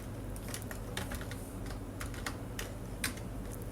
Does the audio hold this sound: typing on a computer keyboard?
yes